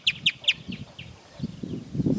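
Casaca-de-couro-da-lama birds calling at dawn on a lagoon shore in Paramirim, Brazil, three sharp bright notes followed by fainter answering calls, over a low rumble of wind or movement.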